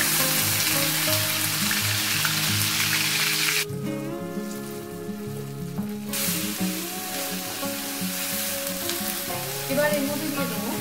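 Spices and onion paste sizzling in hot oil for chicken rezala, with chilli, cinnamon, cardamom and clove in the pan, a steady dense frying hiss with light stirring scrapes, a brief quieter stretch midway, and no talking.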